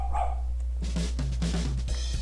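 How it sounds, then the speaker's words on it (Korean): Miru, a pet dog at home, gives several sharp, close barks in quick bursts, separated by short gaps, over a steady low hum, with no talk. "강아지가 멍멍"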